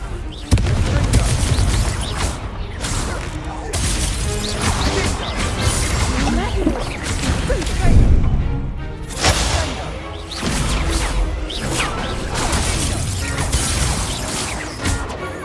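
Confringo spell blasts in the Hogwarts Legacy video game, loud crashing booms and impacts recurring through busy combat effects, with speech mixed in.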